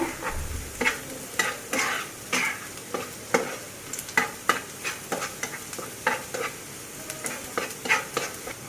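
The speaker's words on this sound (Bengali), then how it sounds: "এরকম করে একটু বাদামি কালার করে পেঁয়াজটা ভেজে নিব।" Onions frying and stirred in a pan until brown for a spicy rui fish bhuna, with repeated scraping stir strokes over a steady close sizzle and no talking.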